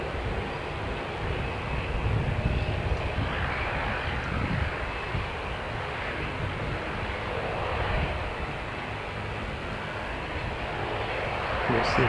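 A fixed-wing airliner on the Hamilton to Christchurch route, flight 615, arriving at an airport at night, heard as a steady, broad engine roar at moderate distance with a gentle swell near the end.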